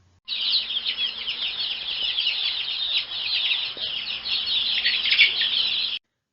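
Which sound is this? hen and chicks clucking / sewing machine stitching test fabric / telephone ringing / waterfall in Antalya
hen and chicks clucking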